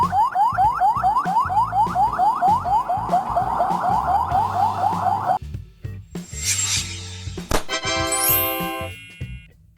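An Albanian ambulance, one of the Mercedes-Benz, Fiat Ducato or Volkswagen Crafter vans in service, sounds its siren: a fast repeating rising whoop for about five seconds, then a shift to higher steady wailing and yelping tones, loud and close.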